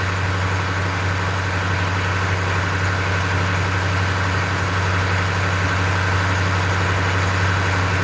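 A boat engine idles at low RPM while cruising slowly, a steady, continuous low drone with a prominent deep hum, running unbroken and fairly loud throughout with no voices.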